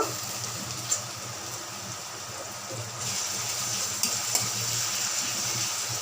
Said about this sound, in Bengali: ভালো করে এগুলো লাল লাল করে ভেজে নেব